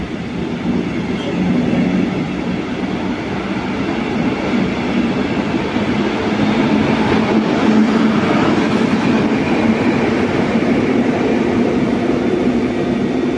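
A train rolls into Berlin Hauptbahnhof, a steady loud rumble of wheels and carriages with faint clickety-clack and brake squeal, continuous throughout with no talk.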